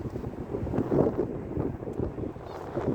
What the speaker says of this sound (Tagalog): Sobrang lakas ng hangin pero napakainit.